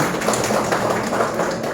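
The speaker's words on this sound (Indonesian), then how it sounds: "tepuk tangan buat kita semua" Applause from a group of teachers at a school meeting, a steady dense patter of many hands clapping continuously at moderate loudness.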